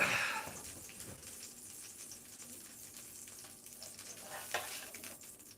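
A bison steak fries in unsalted butter in a pan, producing a faint, steady crackling sizzle with a slightly louder pop near the start and no one talking.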